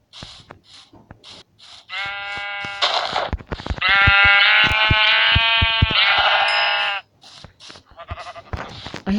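Sheep bleating in Minecraft, a couple of loud, drawn-out wavering bleats close up, with no talking over them.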